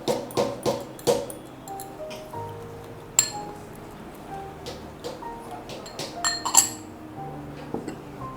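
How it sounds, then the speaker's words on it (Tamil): A spoon mixes chopped banana into vanilla custard in a bowl, giving a series of bright clinks and taps against the bowl, clustered at first and then spaced out, with quieter soft stirring between them. "வாழைப்பழம் நான் வந்து மிக்ஸ் பண்ணிகிட்ருக்கேன்"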